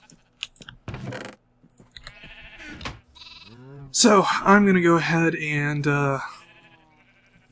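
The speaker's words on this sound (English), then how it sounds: "I'm gonna go ahead and breed and harvest these sheep in between episodes" Minecraft sheep bleating while a sheep farm is being bred and harvested, several short bleats scattered among a man's speech, with a louder cluster of layered game sounds near the end.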